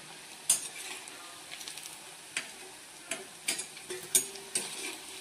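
Veg manchurian balls deep-frying in oil on a low flame, a quiet steady bubbling sizzle broken by sharp clicks and taps of a utensil against the pan, with no voices.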